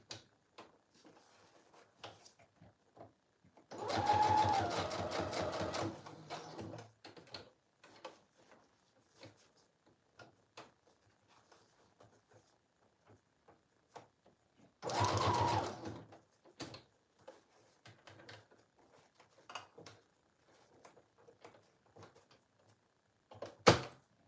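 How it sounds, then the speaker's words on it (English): A sewing machine stitches a travel journal in two short bursts, a rapid mechanical chatter of about two seconds and then about one second, separated by quiet pauses with faint handling clicks. "I feel like I really cannot tell where I am sewing right now."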